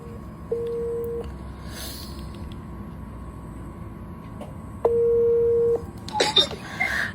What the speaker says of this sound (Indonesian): oke nih gue telepon sekarang Mbak Fitri